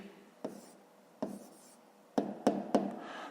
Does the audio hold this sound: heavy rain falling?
no